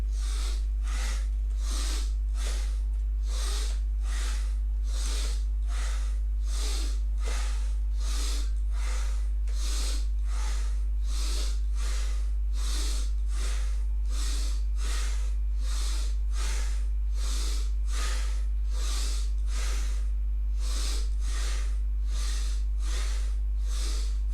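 Rhythmic, forceful yoga breathing repeated about two dozen times at a steady pace. Each sharp inhale and exhale is close and airy, with no talk between the breaths.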